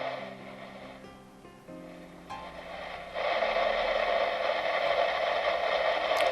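Steady broadband hiss from an Alan 199 A CB radio speaker, rising and growing louder partway through, then holding constant with faint tonal hum underneath.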